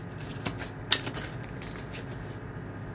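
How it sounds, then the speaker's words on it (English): Tarot cards being turned over and handled, with soft papery flicks and snaps, a couple of sharper slaps near the start, over a steady low background hum, close and fairly quiet, no talking. "I want to turn some more cards."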